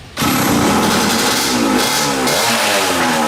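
A restored 1970s Margay racing kart engine revs loudly and continuously up close, a steady high-pitched mechanical roar with rising and falling harmonics throughout.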